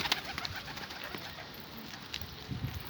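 Outdoor ambience with scattered bird sounds and soft cooing amid steady background noise, no talking.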